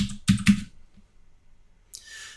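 A few sharp clicks from a computer keyboard as a password is typed into an Ubuntu 16.04 server install running in VMware Fusion on a Mac, two quick close keystrokes then a pause and a softer final tap.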